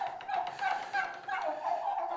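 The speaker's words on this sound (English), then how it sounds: "All right, time to let out the turkeys." Turkeys gobble and call steadily in a coop as it is opened in the early morning, a dense, close chorus of overlapping warbling calls with no one speaking.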